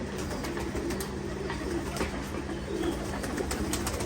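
Several pigeons coo steadily and close by in a loft, soft throaty calls repeating over a constant background hum while the birds come down to drink water in hot weather.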